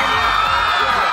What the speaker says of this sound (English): Leonardo arriving to ear-shattering screams